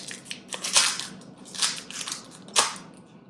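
Biting and chewing a soft maple caramel, close to the microphone, with a few crisp sticky crunches and wet chewing sounds over about three seconds, no talking.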